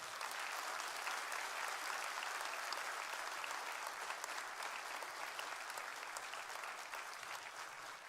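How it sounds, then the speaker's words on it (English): An audience at a sheriff's office awards ceremony claps steadily in sustained, even applause that eases slightly near the end. "How about a round of applause for these individuals?"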